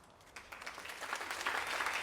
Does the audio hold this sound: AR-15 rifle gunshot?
no